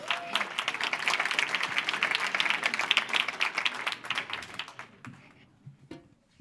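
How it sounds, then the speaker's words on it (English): An audience at a sport events conference gives a round of applause for speaker Emeline Donguet, with lively clapping that tapers into scattered claps and fades out after about five seconds. "give a big applause to Emeline Donguet"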